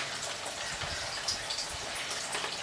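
Coolant drains out of a 2001 Honda Civic in a steady, hissing, splashing trickle that runs continuously at moderate loudness, with no talking.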